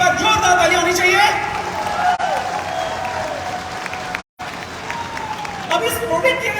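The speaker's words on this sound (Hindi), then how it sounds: "तो एक बार इस प्रोडक्ट एक बार जोरदार ताली होनी चाहिए।" Audience at a product launch event applauds a new herbal veterinary product, a loud, steady spread of clapping from a crowd that carries on for several seconds with a brief dropout near the end.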